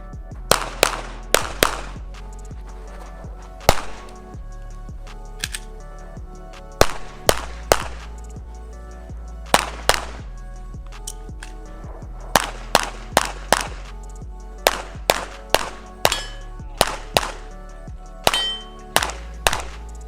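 Smith & Wesson M&P 2.0 5-inch pistol fired during a USPSA-style practice run: sharp, loud shots in quick clustered strings with short pauses between groups, about thirty reports across the run with metallic ringing.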